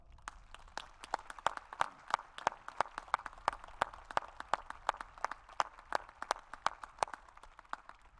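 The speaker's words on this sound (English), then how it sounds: "Let's give a round of applause" Steady applause from a crowd at a Latin honors graduation ceremony, even clapping continuing throughout without any voices over it.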